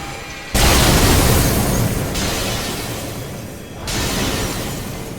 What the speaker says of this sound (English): when the first moon detonated, it detonated much quicker